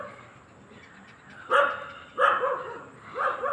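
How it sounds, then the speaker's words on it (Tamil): Dogs bark in three sharp bursts, moderately loud and a little distant, outdoors at night, with no talking over them. "எல்லா நாய்களும் குலைக்குது."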